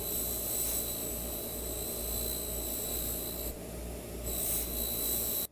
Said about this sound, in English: This wheel is this 3M wheel that has abrasives built into the plastic.